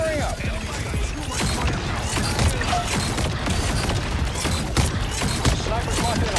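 Gunfire from players shooting in a video game: dense rapid bursts of shots and clattering impacts rolling on for several seconds under a busy, noisy mix, with a voice talking at times.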